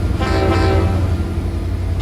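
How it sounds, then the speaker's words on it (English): Locomotive horn in the Run8 train simulator game sounds loud and close, sustained for about two seconds over a low rumbling engine drone. "I thought the horns sound really cool."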